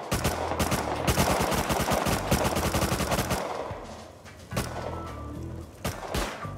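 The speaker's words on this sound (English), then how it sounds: "that's Bradley fire" Bradley APC firing in the Rust video game: dense bursts of rapid, heavy gunshots for about three seconds, then scattered louder single shots and thuds, close and loud with no talking.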